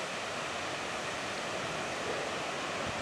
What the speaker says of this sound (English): waterfall is gushing down, and that